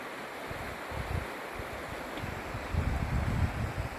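Water flows steadily past the ruins of an old mill, a continuous rushing wash with some low wind rumble that swells toward the end.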